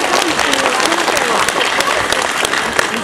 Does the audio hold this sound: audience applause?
yes